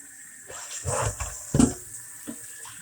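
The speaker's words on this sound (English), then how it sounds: "let it fill up with water." A lentil sprouting jar fills with water from the kitchen tap, uneven gurgling and splashing close by, rising in a few louder bursts as the jar fills, with no talking.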